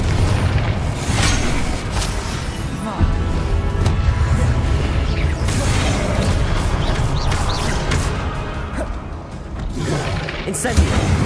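Repeated Confringo fire-spell explosions in Hogwarts Legacy go off as loud, rumbling booms that come one after another, with game battle noise and a player's voice over them.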